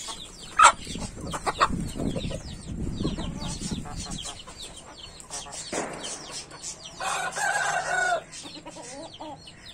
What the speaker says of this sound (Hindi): पहले बांग भी दे रहा है